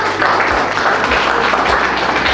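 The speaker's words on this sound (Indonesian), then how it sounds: "Terima kasih berikan tepuk tangan." A crowd applauding steadily, a dense wash of clapping that holds at a fairly loud level from start to finish.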